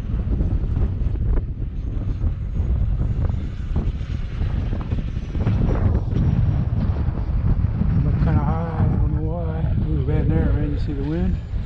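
Gusty wind buffets the microphone with a constant heavy rumble around an E-flite F-16 Thunderbird RC jet in flight, its engine whine rising and bending through the roar, and someone talks over it.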